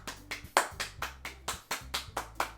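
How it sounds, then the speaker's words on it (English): Scattered applause in the video game Doki Doki Literature Club comes as a steady run of about a dozen close, evenly spaced claps, thin and fairly quiet, with no voices. "I'm the first to start applauding."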